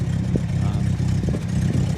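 A car engine runs steadily on the Denali Highway, a continuous low droning rumble with slight rises and dips, loud and close throughout.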